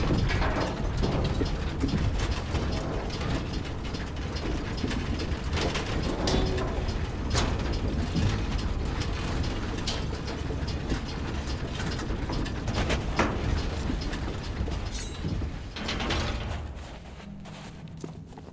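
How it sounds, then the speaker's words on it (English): A lever-operated floor mechanism in Sea of Thieves grinds and ratchets as it lowers, a continuous loud rumble of gears and creaking metal that fades out near the end. "Then you'll pull this lever so the bottom goes down to where you need to be."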